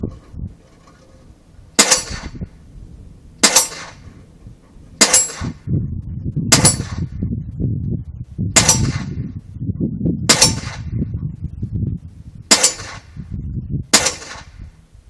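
Eight sharp reports from a Marlin Model 60 .22LR rifle fired outdoors toward a target among trees, spaced roughly two seconds apart. Each one is crisp and loud, with low rustling and handling noise in the gaps.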